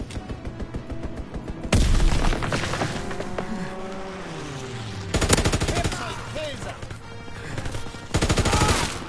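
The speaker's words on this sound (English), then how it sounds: "Enemy strafing run inbound." Enemy aircraft strafing run in Call of Duty: WWII, with bursts of loud machine-gun fire and booming impacts arriving in several heavy waves over a steady engine drone, plus scattered in-game voices.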